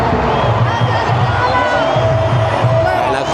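Football stadium crowd of fans, including Ivory Coast supporters, roaring and cheering continuously in a loud, dense wash of voices with rhythmic chanting pulses underneath.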